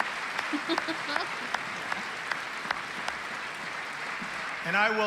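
Scattered hand claps ring out in a steady broken patter, several audience members clapping at a moderate distance during a State of the Union address, with a voice rising briefly at the end.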